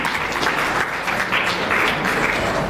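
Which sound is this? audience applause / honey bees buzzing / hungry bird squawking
audience applause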